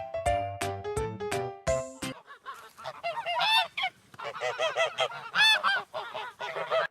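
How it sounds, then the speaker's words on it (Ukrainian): A series of loud honks from a domestic gander, repeated in quick bursts with short pauses, rising and falling in an uneven rhythm. "А це гусак. Га-га-га. Гусак каже га-га-га."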